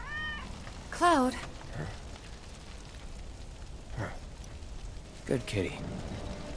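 Cat meowing in Final Fantasy VII Remake: a short, rising-and-falling meow near the start, then a second meow later, both fairly close over a quiet background with light rain-like hiss.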